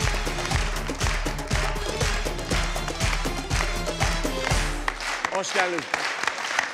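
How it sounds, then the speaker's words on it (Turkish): A studio audience on a Turkish TV comedy show breaks into loud, steady applause as a guest, a football cheerleader, arrives, with a rhythmic beat underneath. The clapping fades near the end as a host speaks a brief welcome. "Koca bir alkış efendim."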